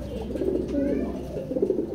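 Low, rolling coos from a pigeon in a pigeon loft repeat over a couple of seconds, close and moderately loud, with faint room noise beneath.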